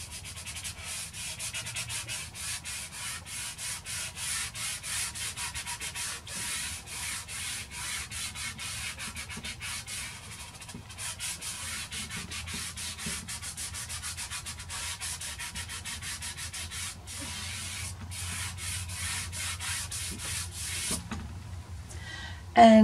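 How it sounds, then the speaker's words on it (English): A fingertip rubs and blends soft pastel across paper in a steady, close, quiet scuffing that continues unbroken, with a small knock at the very end. "I'm just going to take the side of my finger and blend."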